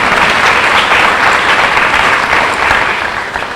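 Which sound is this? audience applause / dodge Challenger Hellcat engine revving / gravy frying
audience applause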